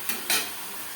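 A chicken and potato curry with onion and tomato sizzles in a pan over a high flame as it is stirred, with two quick scraping strokes over a steady frying hiss.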